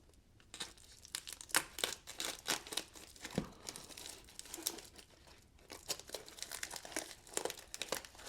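A cardboard Amazon package being slit open with a butterfly knife gives a quiet series of irregular crinkling, tearing and scraping bursts, close up, with no talking.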